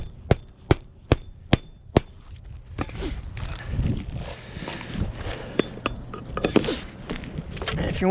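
Hammer driving nails into roof shingles during a vent pipe flashing repair: five sharp, evenly spaced strikes up close, followed by softer shuffling, tapping and handling sounds.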